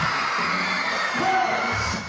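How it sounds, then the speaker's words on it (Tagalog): A dense, loud wall of crowd noise at a Kapuso Fiesta fan event, with cheers, whoops and shouts blending into one sustained roar. "Sinalubong din ng malakas na hiyawan ang paglabas ni Shining Inheritance star Paul Salas."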